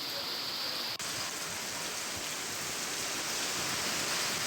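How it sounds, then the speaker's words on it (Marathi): Rain falling in Maharashtra, a dense steady hiss of drops on surfaces with a faint voice in the background. "राज्याच्या विविध भागामध्ये आता पाऊस वाढू लागलेला आहे"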